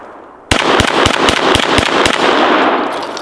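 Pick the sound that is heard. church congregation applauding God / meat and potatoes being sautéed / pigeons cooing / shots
shots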